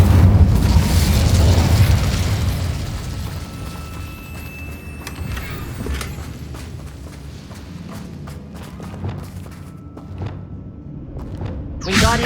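A fiery Incendio spell erupts in Hogwarts Legacy, a loud whooshing burst at the start that tails off into crackling, with scattered footsteps and small pops following and another sharp burst near the end.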